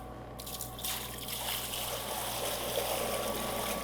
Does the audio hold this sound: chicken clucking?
no